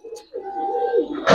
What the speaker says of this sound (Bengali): ভাই এক জোড়া রেসার কবুতর দেখাবো এখন